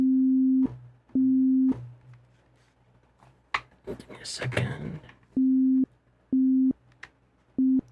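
A DX7-style FM synth tone played in Dexed with maximum-rate envelope settings sounds as short, hard-edged sustained notes that start and stop instantly, repeated several times around a brief spoken remark in the middle.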